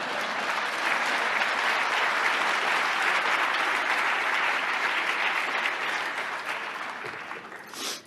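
Audience applause fills a large hall at the New York State of the State address, a dense, steady clapping that holds loud for about seven seconds before thinning out at the end.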